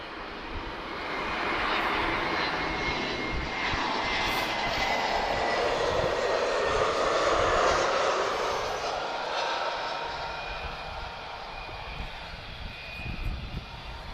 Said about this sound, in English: Right, Air France is inbound, A321s.